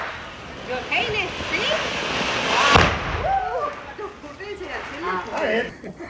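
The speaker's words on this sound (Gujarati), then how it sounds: "અરે વાહ મસ્ત ફાઉન્ટેન છે" A Diwali fountain firework burns with a steady rushing hiss and crackle from nearby, while family members talk and exclaim over it throughout.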